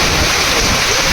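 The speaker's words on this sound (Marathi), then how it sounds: "एकदम जोरदार पाऊस चालू आहे." Heavy monsoon rain pours down during a palkhi pilgrimage procession, a loud, dense and continuous hiss that fills the whole moment with no break.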